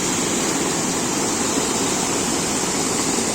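Loud, steady rush of churning water in a natural rock pool among stones, a continuous broadband roar with no pauses.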